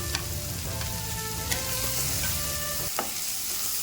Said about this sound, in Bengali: তারপর কেটে রাখা পেঁয়াজ কাঁচা লঙ্কা দিয়ে ভালো করে মশলাটা কষে নেবো